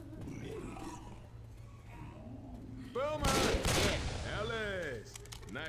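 Bursts of gunfire in Left 4 Dead 2 set in a zombie-overrun shopping mall, a dense loud volley in the middle with growling infected creatures around it, over ongoing game noise.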